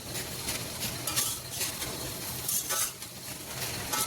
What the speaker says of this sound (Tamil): முள்ளங்கி போட்டதுக்கப்புறம் ஒரு 5 நிமிஷம் நல்லா வதக்கியாச்சு